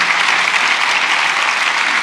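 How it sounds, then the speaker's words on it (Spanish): Loud, dense applause from a congregation at a pastors' retreat in Las Vegas fills the space steadily, with no voices rising above it. "Denle un aplauso al rey"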